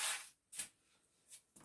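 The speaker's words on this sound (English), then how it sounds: "Now, I'm going to spray this pan. I got some butter spray" Butter spray hisses from a can onto a pan in short, soft bursts, about four quick sprays separated by brief pauses, close and faint in a quiet kitchen.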